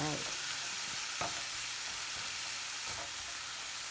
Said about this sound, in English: let me saute this down to get translucent